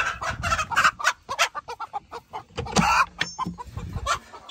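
A broody hen clucks repeatedly in short, close bursts of varied loudness, with scratchy rustling and bits of farmyard noise between the calls.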